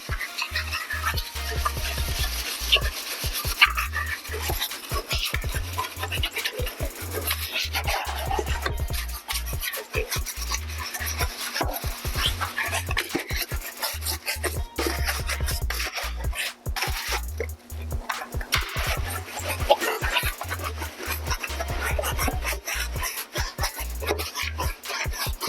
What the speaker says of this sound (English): get my brush, get ready to scrub